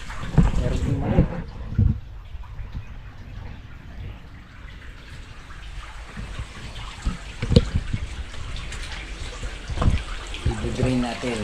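Tap water runs and splashes steadily into a draining basin, with irregular clunks and knocks of handling over the flow and brief moments of nearby activity.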